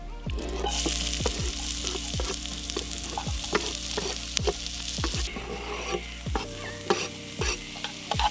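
Celery, onion and garlic fry in a pan with a steady loud sizzle, while a utensil stirs and scrapes repeatedly against the metal throughout; no voices.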